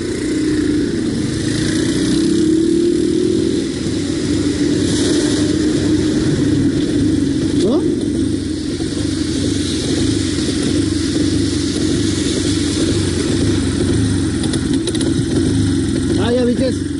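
A motor scooter with a loose carburetor idles nearby in a low, steady drone that runs the whole time, slightly uneven, with voices talking over it.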